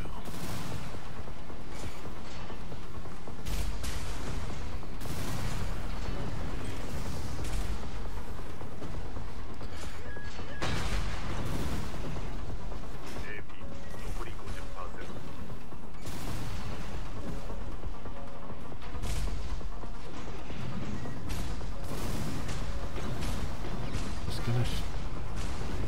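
Missile launches and combat blasts from mech battle game Armored Core VI, a dense, continuous barrage of bursts and mechanical clatter with faint game voice over it.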